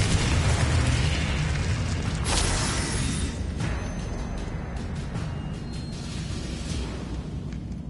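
A Confringo blasting curse erupts in the video game Hogwarts Legacy, a loud burst followed by a long rumbling, crackling tail that slowly fades.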